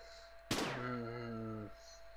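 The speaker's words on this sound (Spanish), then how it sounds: "Ha sonado un disparo." A single sharp gunshot in a video game bursts out, followed by a ringing tonal tail that fades after about a second.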